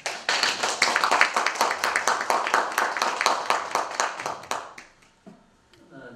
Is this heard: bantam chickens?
no